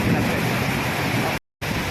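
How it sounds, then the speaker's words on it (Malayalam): Heavy rain pours down in a loud, dense, steady roar close by. It fills the whole span and drops out only for a moment near the end. "ഇപ്പം നല്ല മഴയാണ്"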